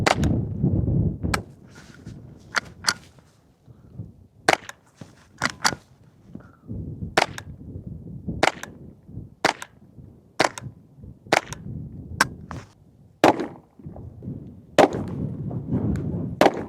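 Sharp .22 Long Rifle shots fired at a painted target outdoors, about fifteen crisp, snappy cracks at irregular intervals, close and loud, with a low rumbling background between them.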